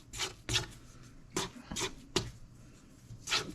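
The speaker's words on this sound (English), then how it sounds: "at this point, we just scrape the sides down a little" A spatula scrapes down the sides of a mixing bowl of cream cheese pound cake batter in several short, close rubbing strokes with quiet gaps between.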